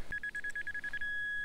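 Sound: metal detector signal tone

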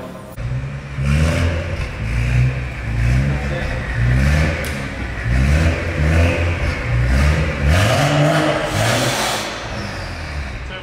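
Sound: BMW M135i engine revving on a dyno

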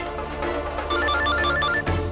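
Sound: phone ringing with incoming call

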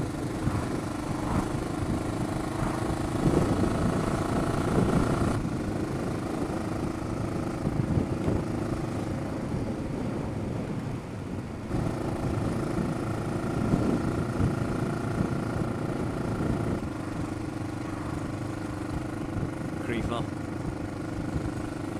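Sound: motorcycle riding

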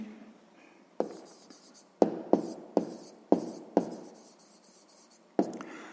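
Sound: writing by hand

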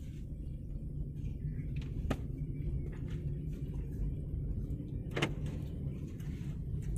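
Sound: car engine as the car starts moving

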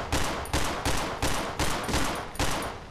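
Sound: gunshots fired in video game Cry of Fear

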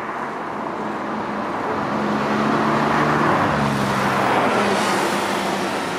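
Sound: Porsche 991.2 GT3 RS car being driven hard

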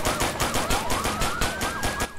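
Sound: gunfire in the video game Arma 3

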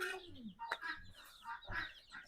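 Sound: chicks clucking

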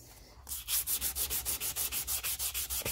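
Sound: sanding a hammer with 240 grit sandpaper

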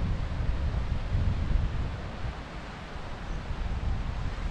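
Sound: waterfall flowing on moorland

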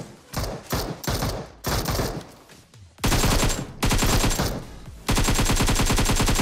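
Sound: boat gunfire in a video game military base

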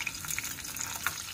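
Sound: chillies frying in ghee

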